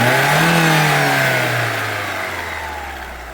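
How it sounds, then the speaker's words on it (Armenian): Car engine with a slight misfire revving briefly, a loud rise in pitch that then falls back toward idle and fades, heard alone with no talk. "հիմա մի թեթև պերեբոյով է մատորն աշխատում, մի քիչ սեղմում եմ"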